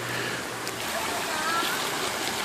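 Running water from a stream rushes steadily in the open outdoors, a continuous broadband wash without pauses, close by and moderately loud.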